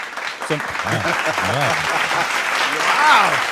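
Crowd applause at a Star Wars Nite event, steady clapping running throughout with voices talking over it and a brief whistle near the end.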